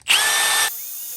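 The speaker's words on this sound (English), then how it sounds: "I just take a drill and a wire brush." A power drill with a wire brush spins up against a rusty brake rotor with a harsh, scratchy whir for about half a second, then cuts off, leaving faint background hiss.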